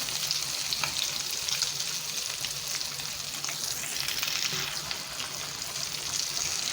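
Chicken shami kebabs fry in a pan of oil with a constant soft sizzle and crackle, fairly quiet and close, with no voices.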